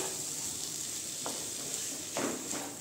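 Rice and masoor lentils toasting with spices in a pan for masala khichdi, giving a soft, steady sizzle with a couple of brief scraping stirs near the end.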